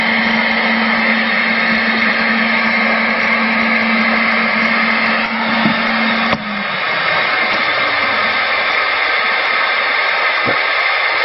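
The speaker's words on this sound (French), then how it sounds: "j'ai dû mettre le ventilateur" An electric fan hums steadily close by, a loud constant whir with a low tone that drops and fades after a slight knock partway through.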